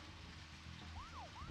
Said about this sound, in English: Turn on my sirens, apparently.